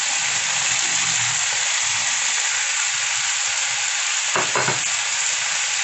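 Shrimp fry in a hot pan with a loud, continuous sizzling hiss close by, plus a few brief stirring scrapes toward the end and no voices.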